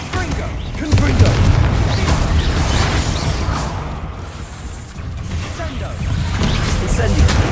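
A Confringo fire spell explodes in a video game with deep, rumbling booms and crashing impacts that swell and fade across several seconds, a voice speaking over the din.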